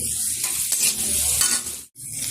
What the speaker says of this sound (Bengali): এবার ভালোভাবে পেঁয়াজটা ভেজে নেবো।